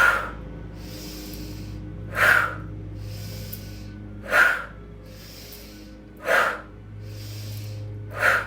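Slow, deep breaths during a gentle yoga session, with four audible inhale-exhale peaks spaced about two seconds apart, close and soft, over a faint steady room hum.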